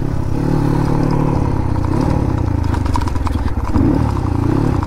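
A Crossfire motorcycle engine runs steadily and loud throughout, with a rattling, clattering texture and a brief rise in revs near the end.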